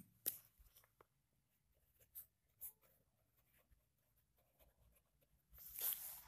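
Pen writing on paper, faint scratchy strokes in short bursts close to the microphone, ending with a louder rustle.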